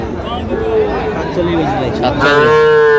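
Sahiwal cattle at a crowded livestock market, with a long, loud moo rising clearly near the end over steady nearby chatter and bargaining voices.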